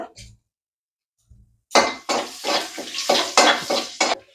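Bay leaves and dried red chillies are dropped into hot oil, giving bursts of loud close sizzling and spattering with utensil clatter after a near-silent start.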